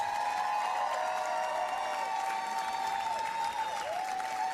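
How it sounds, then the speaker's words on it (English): An audience at a youth touch rugby tournament's opening ceremony applauds the Ukraine team, a steady wash of clapping, with a high tone sweeping over it throughout. "Please give Ukraine a massive cheer."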